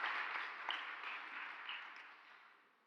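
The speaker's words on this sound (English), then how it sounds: "A big round of applause" Audience applause in a lecture hall at a landscape keynote event, a soft, distant wash of clapping that slowly fades out over a few seconds.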